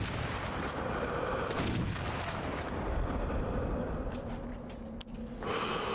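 Scattered gunshots in the video game Sniper Elite V2 Remastered, a few muffled, distant cracks over a dense, continuous background rumble.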